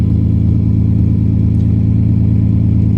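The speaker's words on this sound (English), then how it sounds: "it's pretty crazy how much better the car runs now with a new coil" A 1970 Mercedes-Benz 250 engine runs with a new ignition coil, a loud, steady, close idle hum with an even low throb throughout and no voices.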